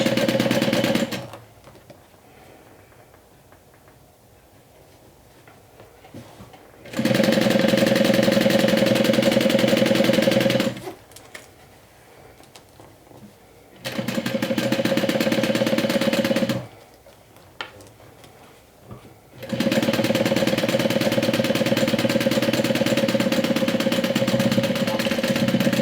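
A sewing machine topstitches fabric an eighth of an inch from the edge on a swim tote, running in three loud, steady motor bursts of several seconds each, separated by quiet pauses.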